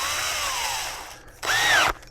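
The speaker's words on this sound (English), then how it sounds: "chuck it up in the drill" A power drill whirs as it spins down, stops briefly, then gives a short high-pitched burst before cutting off, while polishing a lawn mower pin with fine sandpaper.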